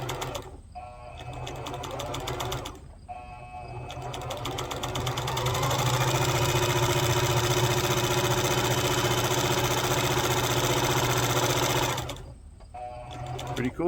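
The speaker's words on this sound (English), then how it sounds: "Listen to how smooth this runs," A Singer 4452 heavy duty sewing machine runs with the presser foot down, giving a loud, steady, close motor whir that starts and stops in short bursts and then holds for a long continuous stretch.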